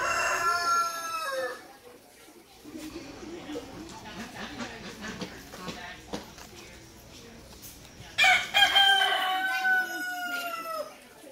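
A rooster crows loudly nearby, long rising calls at the start and again near the end, with a person talking and other barnyard sounds between.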